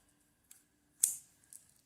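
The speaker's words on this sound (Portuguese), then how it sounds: "Agora, eu vou cortar o fio." Scissors snip through yarn during amigurumi crocheting, one sharp close cut with a small click before and after, quiet and alone.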